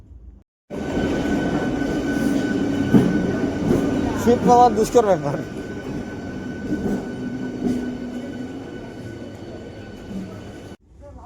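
A train rumbles steadily nearby as it arrives at a station, with a brief metallic wheel squeal, while a voice speaks briefly over the noise.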